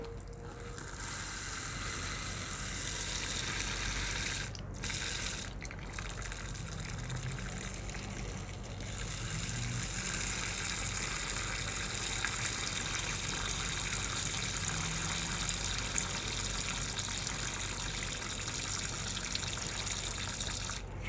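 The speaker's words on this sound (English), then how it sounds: "fill up our water dish" Steady trickling and pouring of water from a squirt bottle into a small tarantula water dish, continuous and close, with a couple of brief pauses early on.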